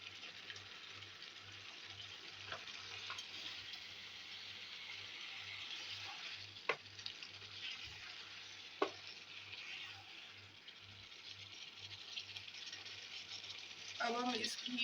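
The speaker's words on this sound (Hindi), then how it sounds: "अब हम इस घी में ही इसको भून लेंगे।" Beef sizzles and fries in ghee in a pan for beef karahi, a steady crackling hiss with occasional stirring clinks, ending in a louder burst of sizzle.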